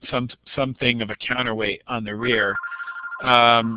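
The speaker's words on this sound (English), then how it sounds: "sorry about that ringing phone in the background." A telephone rings in a room behind a man's speech, its electronic ring tone coming through in brief bursts as he keeps talking.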